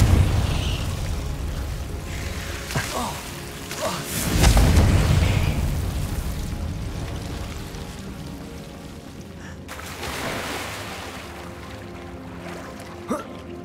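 Fiery Confringo blast spells from Hogwarts Legacy, a heavy boom near the middle with lighter bursts and pops scattered around it, all set over a rumbling game soundscape.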